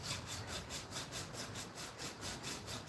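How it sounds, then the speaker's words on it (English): Sandpaper rubbed back and forth on a motorbike part, a steady rhythmic rasp of about a dozen even strokes, close and continuous with no talk. "I can move a piece of sandpaper in a backwards and forwards motion."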